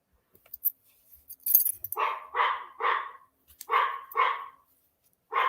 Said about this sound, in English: No, that's Bandit barking